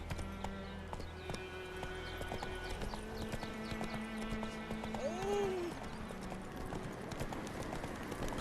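Horse galloping in the video game The Witcher 3: Wild Hunt, rapid steady hoofbeats throughout with a short whinny midway, over quiet game ambience.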